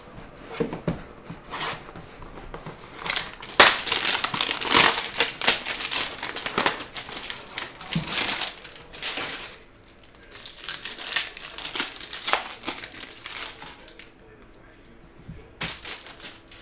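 Panini Donruss basketball card packs are torn open up close, giving bursts of crinkling and ripping foil wrapper with sharp tearing spikes and quieter gaps, and a voice talks faintly in places.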